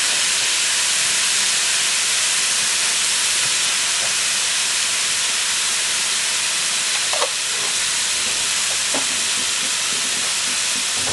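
Ground meat browning in a hot pan with minced garlic for shepherd's pie, a steady loud hiss of searing that runs unbroken throughout, with a few faint clinks near the middle.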